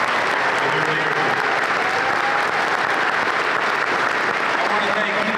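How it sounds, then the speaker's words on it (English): An audience claps steadily and loudly at a speech held at Wilkes University, a continuous dense round of applause with some voices underneath. "Let's give them another round of applause for their leadership."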